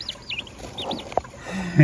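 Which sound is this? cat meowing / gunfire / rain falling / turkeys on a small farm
turkeys on a small farm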